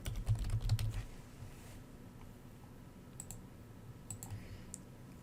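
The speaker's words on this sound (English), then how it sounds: "I'm going to type delete in." Several quick keystrokes tap on a computer keyboard close by, followed by a few sparse, lighter clicks in a quiet room.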